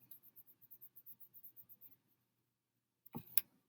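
A board in a chemistry classroom is wiped with about a dozen quick, rhythmic eraser strokes, then a pause before a couple of louder knocks.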